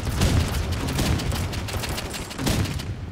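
Rapid gunfire from a video game weapon, dense bursts of shots rolling continuously for a few seconds, loud and close with no voices over it.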